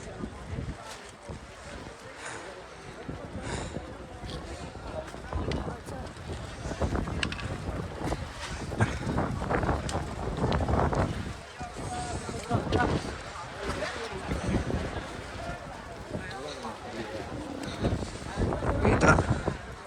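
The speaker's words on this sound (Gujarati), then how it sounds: "બહુ એટલે બહુ પવન આવે છે." Strong mountain wind at Kedarnath buffets the microphone in loud, roaring gusts that rise and fall throughout, with faint voices under the noise.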